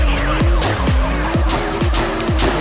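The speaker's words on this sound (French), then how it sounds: "une bagnole qui fait du drift pendant 10 minutes" A car drifting in Drift Tuner 2019, its engine droning loud and steady while tires squeal in repeated sweeping pitch swoops about twice a second.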